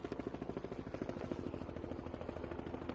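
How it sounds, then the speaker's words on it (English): A passenger helicopter on the Isles of Scilly to British mainland route, a service running since the 1960s, thumps with a steady rapid rotor beat, loud and continuous throughout. "Flying began in the 1960s and is the longest running helicopter service in the world."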